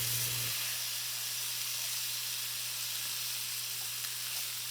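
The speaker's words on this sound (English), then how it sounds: "now it's time to baste these steaks in that beautiful flavored butter" Steaks basted in flavored butter with garlic cloves sizzle in the pan with a close, steady hiss and spatter; a brief low hum sounds at the very start.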